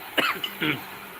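Two short, rough coughs close to the microphone, a brief pause between them, against a hissy background.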